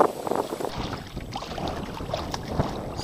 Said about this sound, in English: So the wind's been picking up a bit